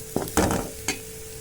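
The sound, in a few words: eggs cracked into masala and stirred, frying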